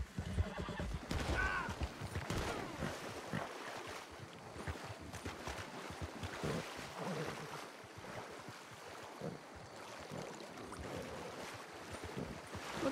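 Horses whinny and snort in a video game amid splashing, muddy movement and faint hoof clops, with a busy outdoor background throughout.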